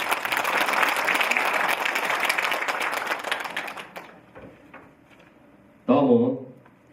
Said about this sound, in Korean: 예, 박수로 환영해 주니다